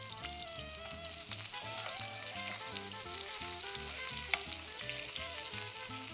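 Halibut fillet frying in melted butter in a pan, a steady bright sizzle running throughout alongside a soft musical backing, with one brief clink near the end.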